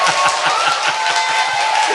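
Applause at a Korean talk show celebrating a local election candidate: a dense, steady patter of many hands clapping together, fairly loud and continuous from start to finish.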